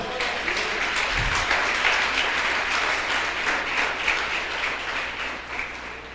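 A church congregation applauds during a sermon, steady dense clapping that fills the room evenly for the full six seconds without letup, with no clear talk over it.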